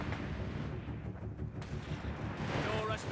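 Rifle fire from enemy riflemen in the World War II strategy game Company of Heroes 3, a dense, continuous rumble of distant gunfire and booms with no clear individual shots, steady throughout.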